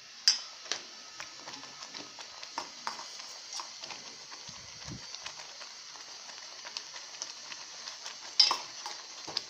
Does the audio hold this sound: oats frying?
yes